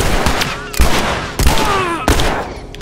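Gunfire in the video game The Last of Us: four loud, sharp shots fired about every two-thirds of a second, with a steady tonal game soundtrack running underneath.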